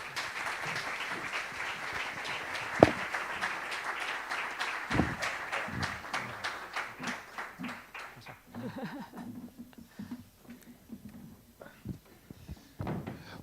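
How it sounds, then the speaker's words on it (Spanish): Audience applause at a conference on artificial intelligence and business intelligence, a dense patter of claps that thins into scattered, separate claps toward the end, with a few louder knocks and some talk underneath. "Adelante, un aplauso,"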